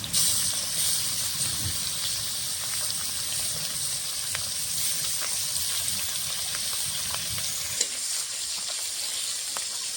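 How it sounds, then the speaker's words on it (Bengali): Whole rohu fish fries in hot oil, a dense continuous sizzle with bright crackle and faint stirring, close up with no talking. "সম্পূর্ণ মাছ একবারে ভেজে নেব।"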